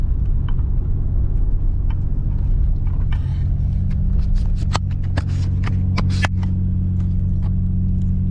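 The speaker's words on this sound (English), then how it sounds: "that was doing a little bit of hooning in an NA Supra" A naturally aspirated MKIV Toyota Supra is driven hard, its engine droning steadily and loudly throughout while sharp clacks and scuffs cut in over the top.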